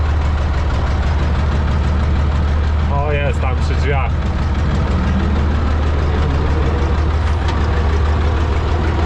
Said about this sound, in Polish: jak się ciągnik zapali